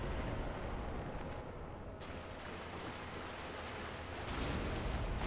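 A continuous, loud, rumbling roar of an explosion during a Dark Souls boss fight against Gravelord Nito, with the dense blast noise swelling again near the end.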